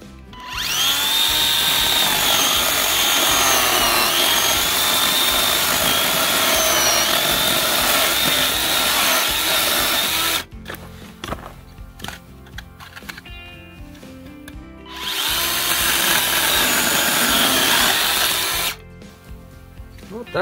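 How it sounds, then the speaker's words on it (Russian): Makita DUC302 cordless chainsaw cutting through wood, a loud continuous buzzing run for about ten seconds, then a lull with lighter rattling before a second burst of cutting and a brief pause near the end. "Вот так выглядит пиление 302 Makita."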